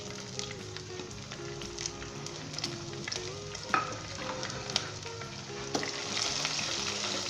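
Green chillies and ginger frying in oil for a peas and carrot sabzi, a continuous close sizzle broken by repeated stirring scrapes and small knocks, no talking.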